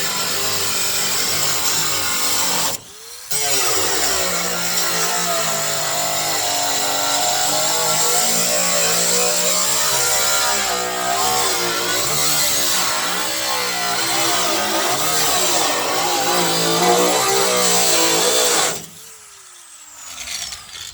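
A Harbor Freight cutoff wheel grinds through metal while parts are removed from a truck. The harsh, continuous abrasive whine lasts about sixteen seconds, stopping briefly near the start and cutting out toward the end.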